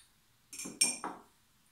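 A spoon clinks a few times against a glass container while mixing baking soda into a model volcano mixture: three quick bright chinks in under a second, close and clear, with silence around them.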